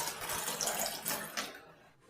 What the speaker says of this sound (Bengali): এরপর আমি আবারও ফ্রেশ জল নিয়ে নিচ্ছি।